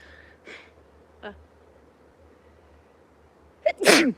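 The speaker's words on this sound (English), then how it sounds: "I have to sneeze" A single loud sneeze bursts out near the end, following a few soft breathy sounds over a quiet hum.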